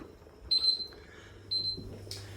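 A kitchen timer for roasting chicken goes off in short high electronic beeps, two brief bursts a second apart, fairly close in a quiet room.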